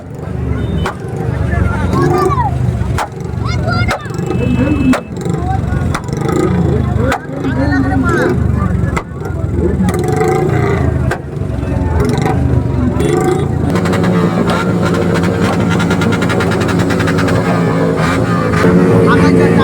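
Royal Enfield Bullet motorbikes revving hard and loudly at an Independence Day ride stop by a roadside dhaba, repeated throttle blasts close by, then a sustained roar, with crowd chatter underneath.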